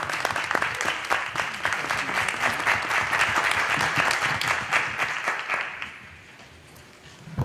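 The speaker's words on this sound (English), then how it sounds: "Give her a round of applause." A crowd breaks into sustained, dense applause that holds steady for several seconds, then fades out toward the end.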